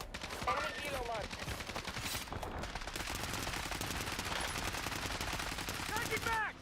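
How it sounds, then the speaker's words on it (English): Sustained automatic gunfire in Call of Duty Warzone, a loud, dense stream of machine-gun shots running nearly the whole time, with brief in-game sound effects at the start and end. "Guy shooting at us."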